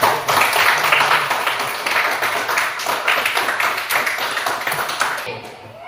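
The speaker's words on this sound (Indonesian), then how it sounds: "Tepuk tangan kawan-kawan" Elementary school classroom children clap together in a patterned rhythm, sharp repeated bursts of hand claps that are close and loud, with some voices mixed in before it trails off at the end.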